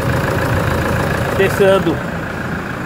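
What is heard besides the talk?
vehicle engine running during power steering test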